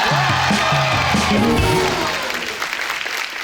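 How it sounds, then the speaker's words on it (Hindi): Loud applause from a TV comedy show studio audience fills the space, dense clapping with a few cheers, while a voice speaks over it before the clapping fades slightly. "जोरदार ताली हो जाए हमारे शो पे"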